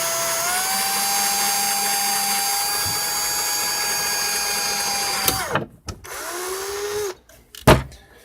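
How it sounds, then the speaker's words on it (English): A power drill whines steadily as it bores through the plastic of a DJI Phantom 3 Standard remote, then stops and gives a few short bursts with clicks and handling noise close by. "I'm going to be very, very careful when I drill here."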